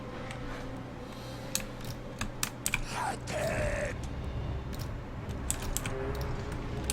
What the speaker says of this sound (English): But, yes, my keyboard is extremely loud.